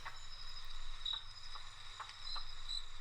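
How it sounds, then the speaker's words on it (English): Crickets chirp softly in a forest nature soundscape from a baby sleep app, a faint, steady high trilling over a low hum. "and kind of hear the crickets"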